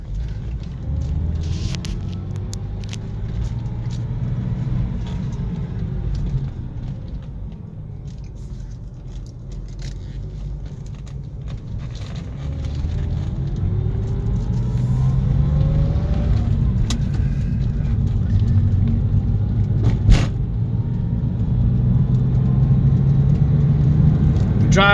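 Car engine on a test ride with a manual gearbox, a steady close interior rumble with rising and falling tones as it shifts and accelerates, growing louder over the drive, plus a few small rattles and clicks.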